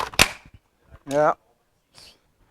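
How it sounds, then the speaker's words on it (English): Bolt of a Bren MK2 .303 machine gun with feeding problems slamming forward, one sharp metallic clack followed by brief quieter mechanical noises, with a short voice nearby. "Did you hear the bolt slide forward when I pulled the..."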